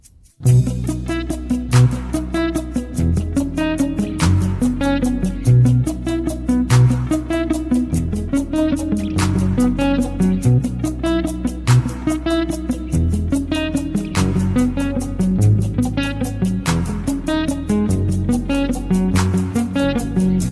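An instrumental rock piece with a steady beat and sustained melodic guitar lead, played continuously without any voices.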